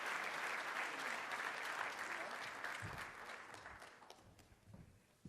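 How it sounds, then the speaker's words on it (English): An audience at a community awards event breaks into applause, a full, sustained round of clapping heard from a distance that gradually thins and fades toward the end. "How about a round of applause for Kobe Dennis?"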